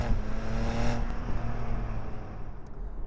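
A BMW Z4 sports car from the early 2000s revving its engine, a steady loud drone that holds dense and close throughout with no talking.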